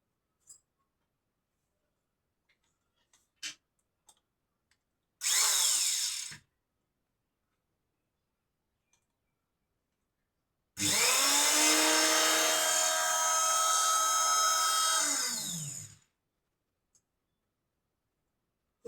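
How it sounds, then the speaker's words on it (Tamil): A fabric cutting machine slices through four layers of white cloth for school uniform trousers. It makes one short buzzing burst, then after a pause a longer steady whine of about five seconds, with faint clicks in between. "இப்போ நான் வந்து இந்த மிஷினில் வந்து கட் பண்ணிக்கலாங்க."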